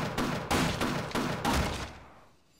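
Rapid bursts of automated turret gunfire in the video game Half-Life, four loud volleys in quick succession, then fading into a quiet tail.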